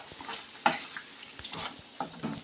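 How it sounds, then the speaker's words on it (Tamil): A spatula scrapes and stirs pirandai thokku sizzling in oil in a pan, with quick irregular scraping strokes over a soft steady fry, close and fairly quiet, no voices. "நம்ம நல்லா கிண்டி கிண்டி விட்டு இதை நல்லா வதக்கணும்."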